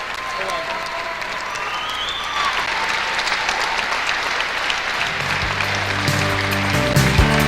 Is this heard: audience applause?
yes